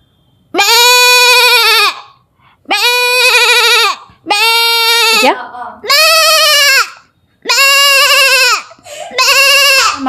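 A girl imitates a goat's bleating with her voice, six loud wavering baa calls in a steady, evenly spaced sequence with brief gaps between them.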